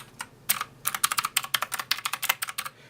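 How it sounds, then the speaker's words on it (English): Random keys are tapped on an E-Element Z-88 104-key mechanical gaming keyboard with blue switches, giving a fast, uneven run of sharp, clicky keystrokes close up with nothing else audible. "I'll just press some random keys"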